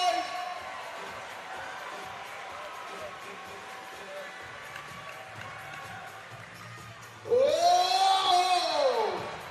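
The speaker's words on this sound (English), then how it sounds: "Come on, crowd, get behind him, make some noise!" Crowd noise at an NBL pre-season basketball game between Melbourne United and Saint Mary's College: a steady murmur of voices under a commentator's speech, swelling into a loud burst of cheering and shouting over the final two seconds.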